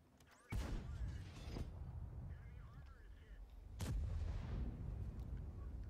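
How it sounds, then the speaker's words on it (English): Tank cannon shots in a Soviet tank video game, two sharp booming blasts a few seconds apart over a low rumbling engine drone. "That was one close shot."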